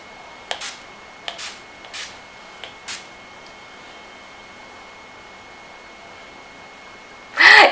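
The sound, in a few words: NYX setting spray being sprayed onto face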